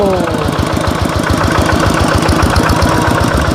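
A repaired walking tractor's small engine chugs loudly and close by in a fast, regular knocking beat, rising as it is revved, with a brief voice over the steady pounding.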